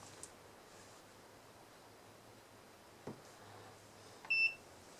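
An MS2108A multimeter set to diode check gives a brief high electronic beep near the end, after faint clicks and a quiet hiss.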